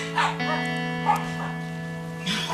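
Small dogs yip and bark in quick, close bursts in a home, with a steady tonal hum running underneath and brief voices nearby.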